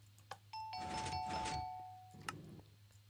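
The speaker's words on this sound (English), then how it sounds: "I think that this is where the doorbell is" A doorbell in a video game chimes once with a clear sustained ding-dong tone over a low hum, followed by a short softer noise.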